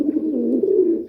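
A sick, newly bought pet pigeon gives a single low, throaty coo, close and fairly loud and on its own, with a soft ripple running through it.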